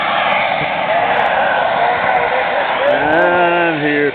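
A vintage warbird airplane roars past at an air show in Delaware, its engine drone loud and steady, with a rising and falling pitched whine as it passes close by.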